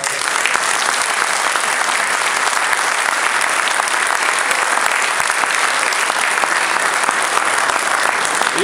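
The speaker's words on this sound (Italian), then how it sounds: "un grande applauso che facciamo a tutti i ragazzi" Applause from a crowd at a Lega election campaign rally in Codognè, Veneto, thanking the young volunteers; loud, dense clapping that holds steady and unbroken, with no voices over it.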